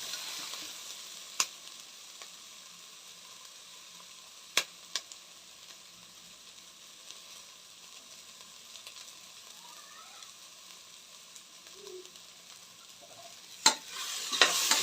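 Curry leaves fry in a pan with a steady soft sizzle, a few sharp clicks of stirring spoon against metal and occasional bubbling pops, with no talking.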